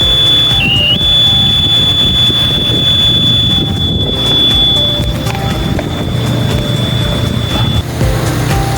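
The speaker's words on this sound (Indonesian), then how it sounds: "ketika tidak saya celupkan ke air, maka buzzer akan otomatis menyala" A TDS water sensor device's buzzer sounds a loud, steady high-pitched continuous tone for most of the stretch before cutting off, over a rumbling background with no talk.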